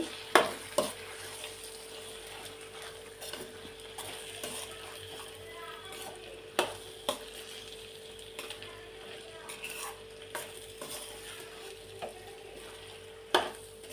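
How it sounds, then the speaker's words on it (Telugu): Spoon stirring tomato brinjal curry with fresh coriander in a pan, a steady sizzle underneath broken by sharp scraping knocks at irregular intervals, close and moderately loud. "ఒక్కసారి మంచిగా కలుపుకోవాలి."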